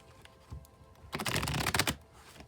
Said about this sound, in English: I will shuffle till I feel like the deck is ready